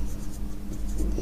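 Pen or marker scratches steadily by hand as a math equation is written out during a class 8 lesson, a continuous soft scribbling over a low background hum.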